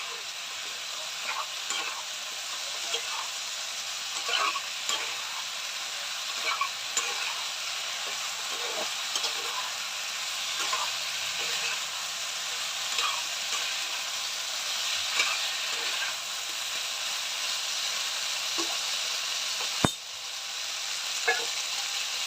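Spice masala frying in a pan while being stirred, a steady close sizzle with repeated scraping stir strokes throughout and one sharp knock near the end; no voices.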